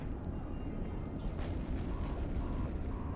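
Ship weapons fire in the space game EVE Online as a steady, dense low rumble of blasts and booms that continues throughout, with slightly sharper bursts standing out partway through.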